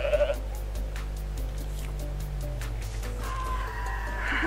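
Cartoonish goat bleats from Goat Simulator, a short wavering cry at the start and another near the end, over a steady low game hum with faint ticking effects.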